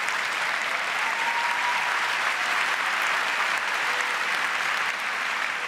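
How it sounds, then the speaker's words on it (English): Theatre audience at an awards ceremony applauding, a steady, even wall of clapping from a large crowd held at constant level throughout, slightly distant, with no voices breaking through. "I think we should give ourselves a round of applause for that"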